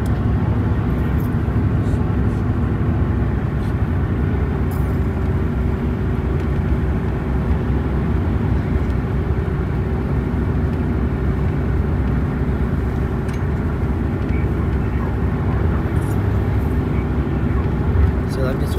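A Chevrolet Tahoe Z71 with a 5.7L engine drones steadily in overdrive at about 60 mph and low revs, a continuous low rumble with road noise, loud and constant throughout.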